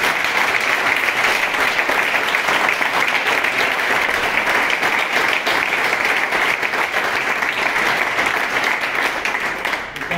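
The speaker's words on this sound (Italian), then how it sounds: "voglio fare un applauso forte al suo papà" A crowd applauds steadily and loudly at the inauguration of the Heraclea Calcio football club, a dense, continuous wash of clapping for about ten seconds that fades slightly at the end.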